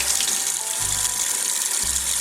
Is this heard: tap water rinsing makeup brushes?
yes